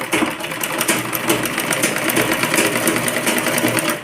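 A sewing machine runs steadily while stitching the hem along the edge of a flared, gathered skirt, a continuous close-up mechanical whir with rapid needle ticking and no pauses.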